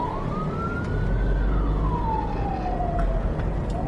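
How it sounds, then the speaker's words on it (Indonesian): An ambulance siren passes on a road, its single long wail rising and then falling in pitch as it goes by, loud over steady traffic rumble. "Sebentar guys, ada ambulan."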